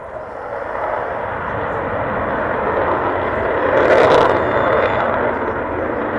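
An Avro Vulcan jet bomber flies overhead with a loud, continuous roar that swells slightly partway through and stays strong to the end.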